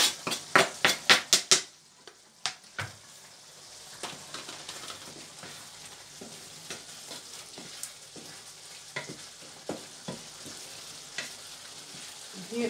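Tomatoes cooking in a pan over high heat for homemade spaghetti sauce, a quick run of sharp stirring or utensil clacks at first, then a steady low sizzle with scattered taps and scrapes, no talking.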